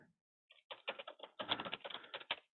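Keys are tapped on a computer keyboard while entering a name into a contract record, a quiet burst of quick irregular clicks after a brief pause.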